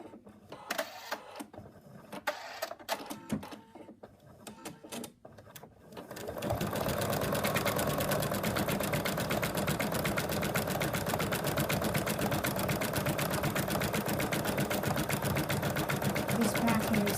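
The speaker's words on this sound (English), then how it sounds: "I've returned the hoop to the machine, and we are now going to stitch out the outline with the fabric." An embroidery machine stitches the outline of a Fred the Frog design onto hooped fabric: after about six seconds of quieter, uneven handling noise, a loud, steady, rapid mechanical whir runs without pause to the end.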